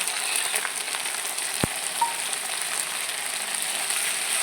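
Cumin and chili paste frying in a pan with fried taro, a steady close hissing sizzle throughout, with one brief sharp click partway.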